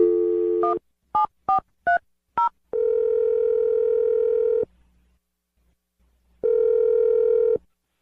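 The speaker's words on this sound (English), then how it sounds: "I'm dialing the phone number right now" A landline telephone plays a steady dial tone, then five quick separate keypad tones as a number is dialed, followed by a long ringback tone, a pause of silence, and another long ring, clear with no talking.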